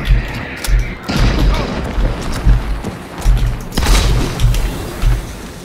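A frag grenade goes off in Hunt: Showdown with a heavy booming thud, followed by rumbling crashes and scattered gunfire in a tense match, loud and close.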